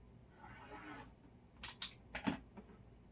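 Fabric block being cut with a blade on a cutting mat: a soft scrape followed by several crisp, quick clicking cuts, close and quiet in a still room.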